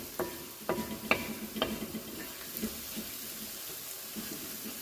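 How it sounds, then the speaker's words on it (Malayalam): Onions and turmeric powder cook in hot oil for a mushroom curry, with a faint, soft sizzle and several light stirring clicks and scrapes near the start. "മഞ്ഞൾപ്പൊടി ഇട്ട് ആ എണ്ണയിൽ ഒന്ന് ചൂടാക്കി എടുക്കണം"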